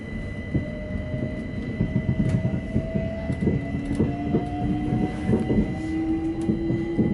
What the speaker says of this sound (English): this is where we're going to see the bit of viaduct with the tube trains on it